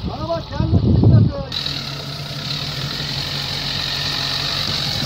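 An off-road vehicle's engine idles with a steady, close low hum during rough-terrain driving, heard after a brief stretch where a person speaks over it.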